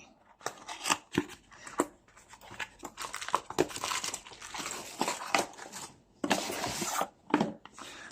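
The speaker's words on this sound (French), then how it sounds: "on va déballer le produit" Packaging being opened around a digital talking blood pressure monitor: irregular crinkling, rustling and crunching of cardboard and plastic, close and moderately loud, in uneven bursts with brief pauses.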